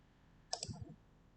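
A quick pair of faint mouse clicks on a form's submit button, close and isolated against quiet room tone.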